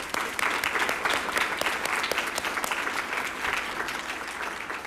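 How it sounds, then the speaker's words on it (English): A room full of people applauds at a school district board meeting, a sustained, fairly distant wash of clapping that holds steady and then tapers slightly toward the end. "Let's have one more round of applause."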